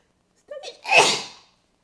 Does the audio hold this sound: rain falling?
no